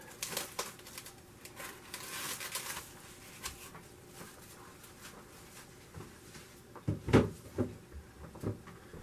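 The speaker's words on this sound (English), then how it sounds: "Open up our chuck roast here." Packaging around a chuck roast for old-fashioned pot roast is pulled open, with intermittent close crinkles, rustles and sharp tearing clicks over a quiet room and no speech.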